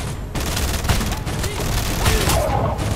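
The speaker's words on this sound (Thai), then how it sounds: "ระเบิดเต็มไปหมดเลย" Explosions and gunfire in the video game DMT Wanted burst in a rapid, dense barrage of booms and cracks, with brief voices over the chaotic clatter.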